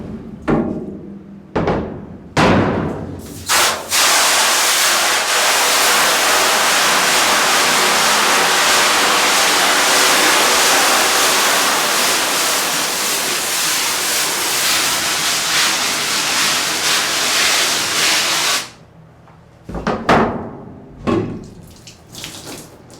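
Water rinses a screen-printing frame coated with exposed emulsion to develop it: a loud, steady hiss of spray runs for about fifteen seconds, framed by short splashes and knocks before and after.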